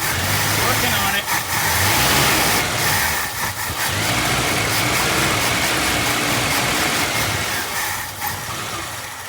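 A 1966 Ford Mustang convertible's engine cranks and catches while its carburetor is being primed, then runs and revs unevenly up close, with a voice talking over it.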